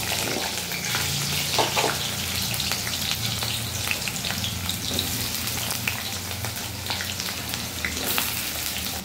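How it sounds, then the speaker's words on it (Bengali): Potato pieces fry in hot oil tempered with black cumin seeds, a dense steady crackling sizzle close by, with occasional scraping stirs and soft utensil taps throughout. "এবার আমি আলুটা ভেজে নেব।"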